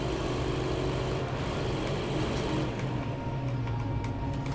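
Car engine in the zombie survival game State of Decay 2, a steady low droning rumble with a constant hum throughout, loud and continuous with no talk.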